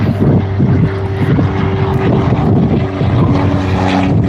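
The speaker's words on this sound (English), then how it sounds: "Cessna 172 up on a training run into the strong northerly breeze" A Cessna 172 propeller aircraft on a training flight near Gold Coast Airport in a strong northerly breeze, its engine drone loud and steady with a buzzing propeller tone and wind noise throughout.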